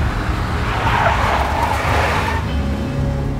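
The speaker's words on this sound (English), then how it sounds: "A big black Mercedes." Big black Mercedes skidding in the Max Payne video game, a loud car engine with a sustained tire squeal rising and fading over a few seconds.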